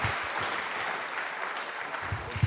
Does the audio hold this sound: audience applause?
yes